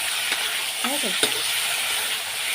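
Fish curry spice paste sautéing in a pan gives a steady, close sizzle with a bright hiss throughout, with faint, brief voice fragments over it.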